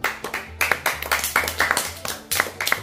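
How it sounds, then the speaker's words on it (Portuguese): A small studio group claps in a round of applause on a home-makeover show, about a dozen irregular claps over a low steady hum, with a brief voice near the end. "Uma salva de palmas, então."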